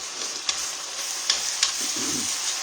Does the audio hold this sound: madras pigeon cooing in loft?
no